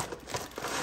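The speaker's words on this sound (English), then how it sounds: "So I'm gonna cut open a new packet." A packet of graham honey crackers is cut open with a soft, brief crinkling of wrapper, faint and close.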